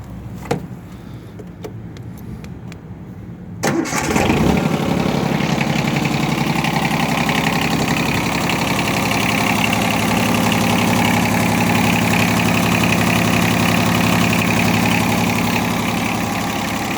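A used Yanmar F155 compact tractor's diesel engine cranks briefly and fires up, then settles into a steady, loud, close idle that runs on evenly without talk.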